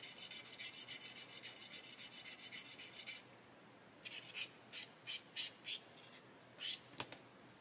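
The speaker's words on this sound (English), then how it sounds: "I'm going to have to sand it. So I'll come in with a sanding stick." Sanding stick rubbed against a small scale-model part, starting with a quick steady run of about twenty even strokes, then a pause and a slower, irregular series of separate scratchy passes, close and fairly quiet.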